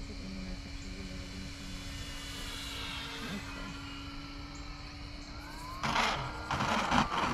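A radio-controlled model airplane comes in to land at night, its motor a steady whining drone with a faint tonal hum, swelling into a louder rushing burst near the end.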